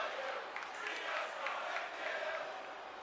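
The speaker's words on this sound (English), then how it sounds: "Right, listen to that crowd." A steady roar of a large wrestling-arena crowd cheering and shouting in a WWE video game, sustained and somewhat distant throughout, without clear speech over it.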